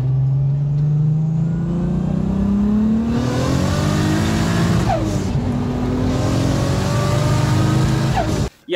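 A Toyota Supra's engine rises steadily in pitch as it revs and pulls through gears during a ride, heard from inside the car as a loud, continuous drone that keeps climbing, easing and building again.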